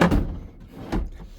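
A pull-out drawer in a Laika Ecovip L2009 high-roof motorhome slides with a knock at the start, a soft rolling run and another thunk near the end, close by.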